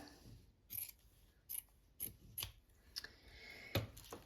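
Scissors snip through chipboard and fabric for a junk journal cover, trimming excess by eye; about eight crisp cuts land roughly every half second, close and fairly quiet, with no talk.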